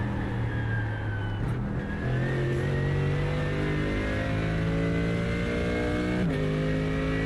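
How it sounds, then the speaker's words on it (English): A race car engine in the iRacing sim drones loudly and steadily, pitch climbing through gears with brief dips at shifts, a constant close mechanical roar with no talking. "predominantly I hear engine noise"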